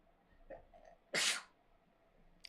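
A single sharp sneeze bursts out, loud and close, after a few soft breaths and small mouth sounds, with a faint click near the end.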